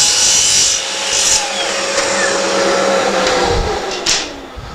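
A hand saw cutting a piece of wood to length in a miter jig for drawer parts, rasping back-and-forth strokes heard close and loud, with a faint squeal of the blade and no speech.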